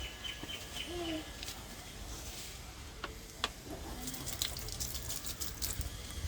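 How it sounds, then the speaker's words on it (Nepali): A child pours water onto tomato plants, a soft continuous splashing and trickling with a few small drips and taps, heard close. Faint voices come and go in the background. "पानी त कस्तो मजाले हालेको त हौ।"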